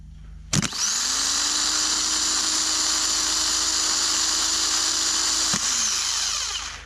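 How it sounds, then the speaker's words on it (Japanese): A car starter motor bench-tested with its terminals bridged: a sharp click, then a loud, steady electric whine for about five seconds, ending with another click as it spins down. "これでモーター回るかどうかちょっと見てみたいと思います"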